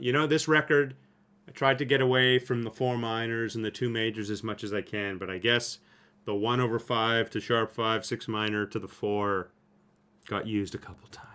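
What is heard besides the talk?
No everyday noise stands out behind the speech.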